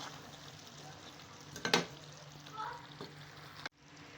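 Potato and taro curry is stirred in a pan over a low flame, with a faint steady simmer and sizzle and one brief spoon scrape partway through, heard quietly and alone.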